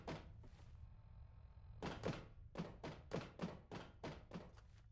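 Repeated heavy bangs on a door in a System Shock 2 mod game, a pause after two early knocks, then a rapid run of loud thuds close by.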